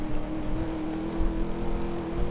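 Engine of a car in the Need For Speed racing game drones steadily at high revs, a loud continuous buzzing whine near the listener, with no one talking.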